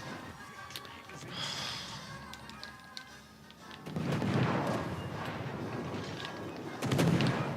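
Naval guns firing in World of Warships: Legends, heavy booming salvos that swell in the second half, with a loud burst near the end, mixed under someone talking.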